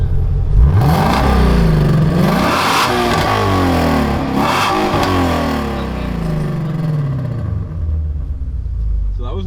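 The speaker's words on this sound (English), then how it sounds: "so I'll give you guys a rev in normal." A 526 hp Shelby Mustang GT350 engine revs in normal mode, loud and close, with several rising and falling sweeps of engine pitch in a row and speech mixed in.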